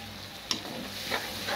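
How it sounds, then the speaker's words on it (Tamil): Tomatoes and onions sauté quietly in a pan for a coriander curry, giving a soft, steady sizzle. A spoon clinks faintly once or twice during the short clip. "எல்லாம் நல்லா வதங்கிருச்சு பாருங்க"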